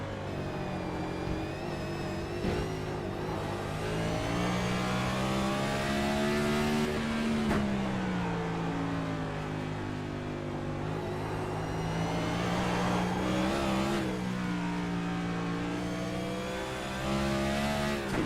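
Race car engines in a racing video game at the Charlotte Roval, holding a loud sustained drone that rises and falls with gear shifts and throttle changes, continuous throughout and close up, with no talk.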